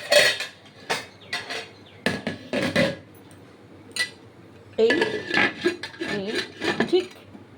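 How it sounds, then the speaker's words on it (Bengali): A metal lid is set on a cooking pot of shahi paneer, giving sharp clanks and clinks in scattered bursts, with a voice talking over the later part. "এবার আমি ঢেকে দেবো হ্যাঁ ঢাকনা দিয়ে ঢেকে দেবো"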